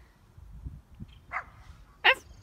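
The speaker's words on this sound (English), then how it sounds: "He's barking at me." Dog barking outdoors on a bluff, one sharp bark ringing out near the end after a softer yip, moderately close, with low background rumble.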